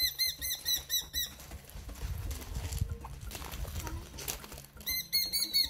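A free-flying bat falcon at a raptor center in Belize flaps its wings in a soft fluttering burst, framed by rapid, sharp high-pitched chirping calls at the beginning and end.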